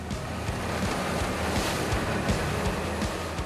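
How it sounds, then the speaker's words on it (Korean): A fishing boat pushes out to its fishing grounds through rough sea in bad weather, with a steady wash of waves and wind buffeting the hull in a loud, continuous roar. "거친 파도에 조업이 쉽지 않을 것 같은데요."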